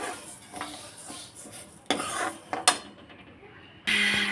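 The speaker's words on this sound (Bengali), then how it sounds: "এখন আমি ডালটাকে হালকা করে ভেজে নেব" Moong dal being lightly fried and stirred in a pan, with scattered scraping and clinking of a utensil against the metal, a few sharper knocks, a brief lull, then a fresh burst of stirring near the end.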